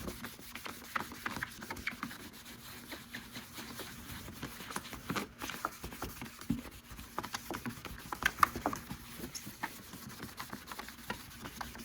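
Soft, continuous rubbing and patting as a towel wipes over a car headlight lens during restoration, close and quiet, with light scuffs and taps throughout.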